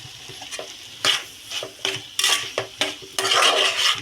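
A spoon stirs grated coconut into a cooked cowpea and potato vegetable in a pan, with repeated scraping and clinks against the metal over a light sizzle, ending in a longer busy stir.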